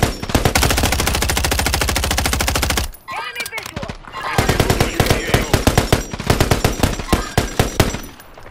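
Rapid automatic gunfire in Call of Duty: Warzone, a loud sustained burst for about three seconds, a brief pause, then further bursts of shots continuing to the end.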